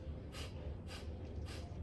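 Rapid yogic breath of fire: three sharp forceful nasal exhalations, evenly spaced about every half second, close and fairly quiet over a low background hum.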